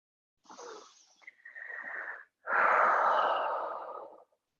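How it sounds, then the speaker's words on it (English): Alternate nostril breathing in a gentle yoga session: three slow, forceful nasal breaths, one shorter inhale followed by two longer, louder rushing exhales, close and alone. "let's just take that version of breathing, nostril breathing"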